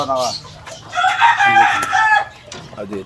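A gamefowl rooster crows loud and close at a pet market in Bocaue, its long harmonic call stretching over about a second and a half, with a shorter crow-like burst near the start and faint market noise behind.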